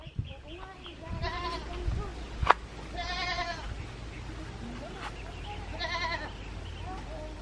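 Goats bleating on a farm, several wavering calls at intervals from fairly close, with quieter background noise between them.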